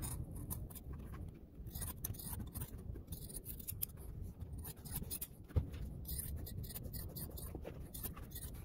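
Scissors cut upholstery fabric for a car seat insert, running close along a stitched thread line: a steady series of crisp, near snipping and crunching strokes, fairly quiet, with no talking.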